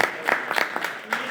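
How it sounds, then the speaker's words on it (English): Scattered clapping from a small audience at a manufacturing talk, with a few uneven hand claps that sound fairly near and sparse rather than a full ovation. "I'd like everybody to give him a big round of applause"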